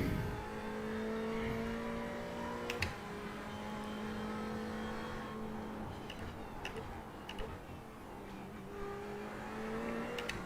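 A race car laps the Bathurst circuit in the iRacing sim, its engine droning steadily with pitch shifts through gears and a few sharp ticks, running continuously with no talk.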